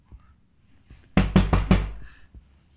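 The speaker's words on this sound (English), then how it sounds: "you're not exactly eager to go see who's bashing on your door" A door is bashed with four heavy, rapid thumps in a tight cluster, loud and close, followed by a softer single knock after a short pause.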